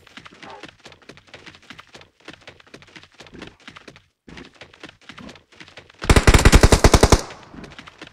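Shotgun gunfire in a video game: a loud, rapid burst of shots lasting about a second, standing out sharply after several seconds of quieter ticking taps.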